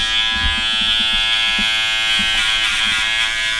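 Hair clippers fitted with a number 3 guard buzz steadily while cutting hair, a close, continuous electric hum with small shifts as the blade moves through the hair.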